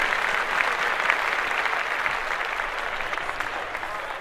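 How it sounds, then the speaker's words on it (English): Dense audience applause, a continuous wash of many hands clapping at full strength throughout, steady and fairly close with no break or fade. "clap that shit up for more governors"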